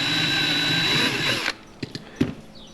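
A small power drill whines steadily as it bores out the front of a Matchbox toy car, a Volkswagen Beetle, then cuts off abruptly and leaves a few faint clicks and taps.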